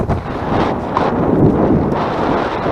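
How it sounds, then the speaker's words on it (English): Strong wind buffeting the microphone, a continuous low rumble with gusty surges throughout, outdoors along a creek. "It is really windy, so I apologize."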